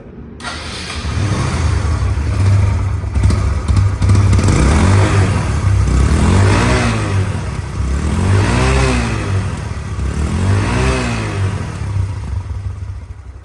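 A second-hand Hero Ignitor 125cc motorcycle starts up close by and idles loudly, then its engine is revved in several rising and falling swells before settling back to a steady rumble.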